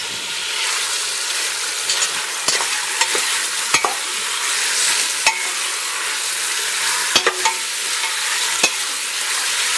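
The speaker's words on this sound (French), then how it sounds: "Voilà, on va faire dorer les morceaux." Chicken pieces brown in a pan for a coconut milk and black mushroom dish, with a steady close sizzle broken by sharp clinks and scrapes from stirring.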